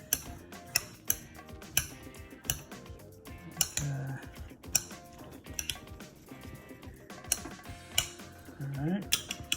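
A spoon stirs chopped pico de gallo salsa with squeezed lime juice in a bowl, giving close, irregular clinks and scraping taps against the dish.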